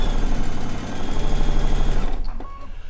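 A sewing machine stitches steadily over a mitered strip seam on a Stone Log Cabin quilt block, a loud continuous motor whir with rapid needle rhythm that stops near the end, leaving a faint quiet tail.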